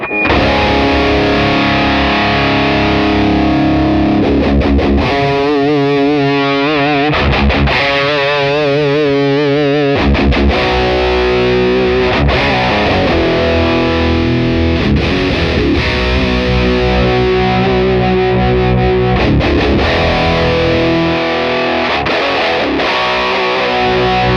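An electric guitar runs through a Victory V4 Kraken preamp with its EQ adjusted, producing heavily distorted, chugging riffs and sustained chords that shift in tone, with short gaps between phrases, loud and continuous.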